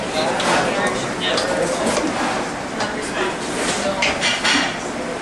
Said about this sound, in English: to make sure we're getting everything off the sides of the bowl, because some of the honey is going to stick to the sides